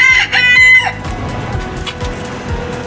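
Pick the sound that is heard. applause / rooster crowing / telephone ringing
rooster crowing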